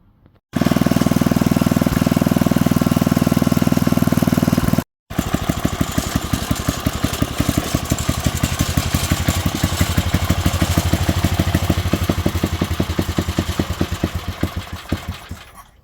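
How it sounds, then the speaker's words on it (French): An Ariens 524RT snowblower engine starts and runs loud and close, cuts out briefly, then catches again and settles into a steady, rapidly pulsing idle that slowly fades. "là nous allons passer au démarrage, laisser chauffer et puis écouler l'huile"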